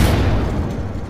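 A cannon in the naval combat game From The Depths fires, heard as a heavy, rumbling boom that rolls on and slowly fades across about a second.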